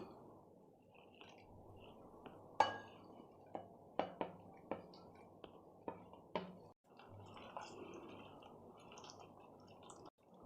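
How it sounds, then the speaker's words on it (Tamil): Mushrooms washed in hot water are mixed into masala in a bowl, giving soft wet squishing with scattered sharp clicks and clinks of the spoon against the bowl, close and fairly quiet. "இப்போ சுடுதண்ணியில் கழுவி வச்ச காளானை இந்த மசாலாவில் சேர்த்துக்க போகிறோம்."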